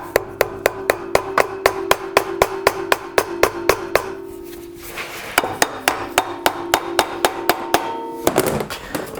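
A hammer taps repeatedly at a tight part on a Briggs & Stratton engine, sharp metallic strikes in a brisk, even rhythm, pausing briefly midway before another run of close, loud knocks.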